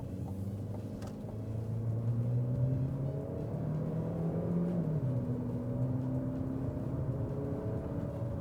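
A 2025 Chevy Equinox LT with a CVT accelerates gently from inside the cabin, giving a low, steady engine and road rumble that swells and eases as the speed builds, with no talking.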